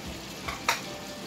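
Chopped onion pieces drop into a hot pan of chicken karahi with a soft hiss and a brief stirring scrape. The frying sizzles quietly and steadily throughout, with no talking.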